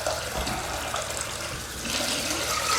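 Cold tap water runs steadily into a sieve bowl of rice, a continuous close splashing hiss that holds level for the whole stretch with no voices over it.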